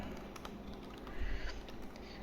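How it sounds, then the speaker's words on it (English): Rapid, light key clicks from an IBM ThinkPad X40 laptop keyboard, with irregular taps and a few sharper strokes over a faint steady background hiss, close by and without speech. "I do love the satisfying keyboard feel of this laptop."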